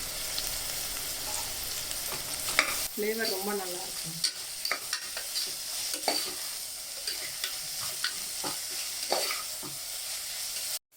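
Ginger garlic paste and chopped coriander fry with a steady sizzle, with stirring scrapes and clinks of a spoon in a pan, and a brief spoken remark partway through.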